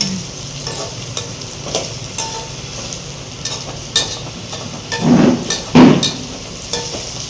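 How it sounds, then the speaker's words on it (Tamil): Onion, tomato and curry leaves sizzle as they sauté in a pan, with a low steady hiss and a few louder scraping stirs near the end. "வெங்காயம் தக்காளி கருவேப்பிலாம் போட்டு நல்லா வதக்கிக்கணும்"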